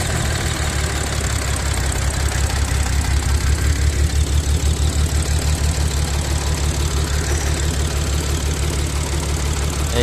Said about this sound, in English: Engine is shaking